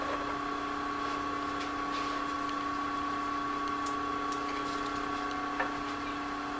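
A dried cherry bowl spinning on a wood lathe at about 600 RPM, a steady mechanical hum with sustained tonal whine and faint intermittent ticks, even and continuous throughout.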